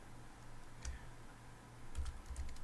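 Computer keyboard typing while entering text in Photoshop: quiet, scattered key clicks in a loose rhythm, growing a little busier toward the end.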